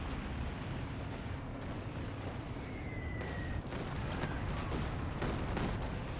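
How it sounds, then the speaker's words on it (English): Calliope rocket artillery firing in Company of Heroes 2, a continuous loud barrage of rumbling launches and blasts on a 4v4 Hill 400 battlefield, with a brief whistling streak overhead midway. "Calliope firing on his own infantry."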